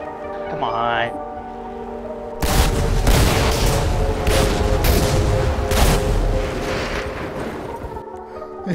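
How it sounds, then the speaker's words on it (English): A burst of loud explosions and crackling bangs from fireworks in GTA 5 erupts after a brief quieter stretch, with rapid pops continuing for several seconds before fading. "He kicks the firework and just explodes."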